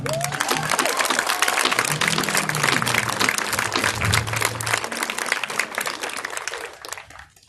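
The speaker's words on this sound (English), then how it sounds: "So give a round of applause for each other." A crowd at a rally against police brutality applauds, with dense, sustained clapping and some cheering that holds for about six seconds before tapering off at the end.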